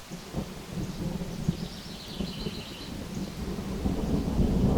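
Deep thunder rumbling steadily through a mountain lake storm, low and continuous, with faint rain and wind beneath.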